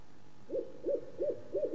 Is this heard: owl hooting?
yes